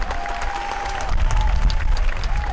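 Crowd at a Child Protection League rally in Minnesota claps loudly and steadily, a dense applause that swells slightly in the second half, with some voices mixed in.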